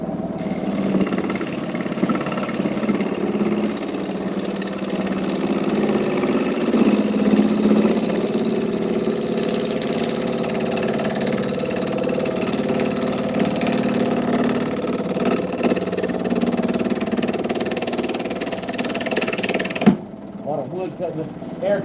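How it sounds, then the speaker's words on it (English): A gouge cuts wood on a spinning lathe, giving a steady, fairly loud rasping roar under a motor hum that runs continuously for about twenty seconds before the cut lifts away near the end. "Wood cutting, air cutting at the end of that."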